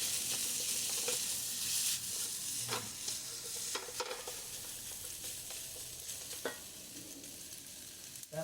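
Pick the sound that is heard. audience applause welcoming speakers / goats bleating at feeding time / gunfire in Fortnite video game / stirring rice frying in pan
stirring rice frying in pan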